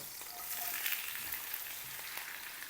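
Onions sizzle and crackle steadily in butter and oil in a pan, a close, bright hiss with small pops throughout, no voices.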